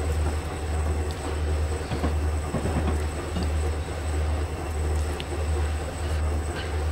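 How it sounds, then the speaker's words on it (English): Train wheels with a flat spot clacking in Train Simulator 2015, a steady loud low rumble with faint rhythmic knocks running continuously and no talk. "train axles got a flat spot on them on a wheel"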